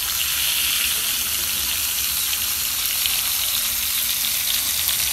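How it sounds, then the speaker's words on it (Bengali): Fish sizzling as it fries in hot oil on a stove, a steady, close crackle and hiss that runs without a break and with no voices. "চুলাই আমি মাছ ভাজতেছি"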